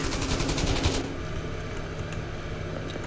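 Rapid automatic gunfire rattles in the video game Deadline, a dense loud burst of shots for about a second, followed by a steady background hum of game noise.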